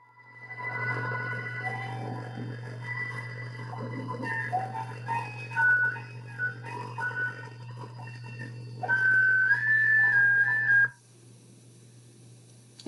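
Pre-Hispanic Latin American clay flute playing a wavering melody of sustained, gliding tones over a steady low hum, growing louder near the end before stopping abruptly, with no talking.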